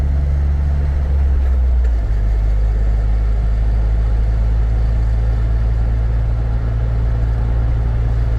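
A 2007 Jeep Wrangler X on the road, its engine giving a steady low rumble with constant drivetrain and road vibration throughout, loud and close, with no talking.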